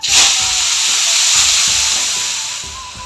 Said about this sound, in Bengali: কালি জিরা একটা শুকনো লঙ্কা দিছি ফোড়নে